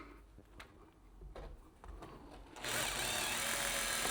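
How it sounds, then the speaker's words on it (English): A power drill drives a drywall screw during a speaker installation, a loud, close burst of whirring for the last second and a half after some quiet handling knocks. "Make sure that it's centered and screw in the first drywall screw."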